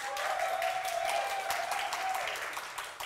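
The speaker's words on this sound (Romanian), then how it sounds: "Aplauze, vă rog frumos" Small group of staff applauding at a 2020 awards gala held without a live audience, steady brisk clapping with a faint tonal hum underneath, fading slightly at the end.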